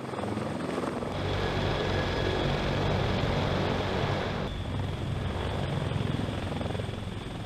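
A CH-53K heavy-lift helicopter's heavy rotor thrum and engine roar, steady and loud throughout, with a slight shift in tone partway as it passes.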